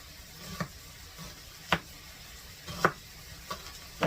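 A knife chops through raw pork loin on a cutting board in a home kitchen: five sparse, sharp thunks spaced about a second apart, fairly quiet against a low room hush, with no talking.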